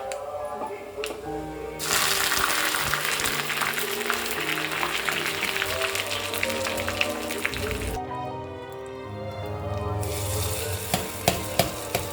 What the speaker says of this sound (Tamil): எண்ணெய் ஊற்றி நம்ம கருவேப்பிலை போட்டு தாளிச்சிக்கலாம்